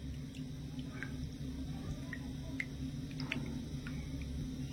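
Palm fruit pulp being mixed into water makes soft wet squelches and small drips in an irregular rhythm, close and quiet over a low background hum, with no voices.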